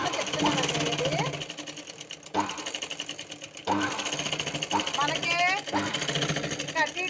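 A sewing machine runs a straight seam in a rapid, steady mechanical chatter up close, pausing and restarting several times while someone talks over it.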